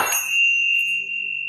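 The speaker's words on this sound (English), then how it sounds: "I also found these Tibetan bells," A single bright Tibetan bell strike rings out and sustains a clear, pure tone that slowly fades, close and fairly soft.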